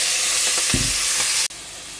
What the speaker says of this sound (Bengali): আর এখানে হচ্ছে আমি চিংড়ি মাছটা ভাইজা নিতেছি